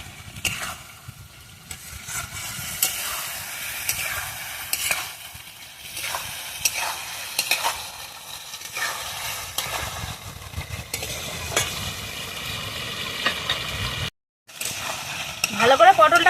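Pointed gourd pieces, fried earlier, are stir-fried in a pan with a pinch of sugar: a steady close sizzle with repeated stirring scrapes, a brief break near the end, then louder frying, with faint speech at times.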